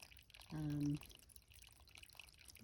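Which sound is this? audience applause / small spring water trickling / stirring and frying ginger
small spring water trickling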